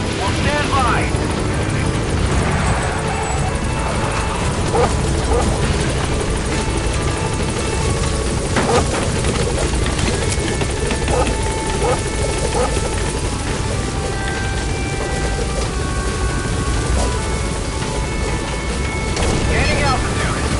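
A helicopter lands in the video game Metal Gear Solid V: The Phantom Pain, its rotor chop and turbine roar loud and steady throughout while a radio voice speaks over the noise.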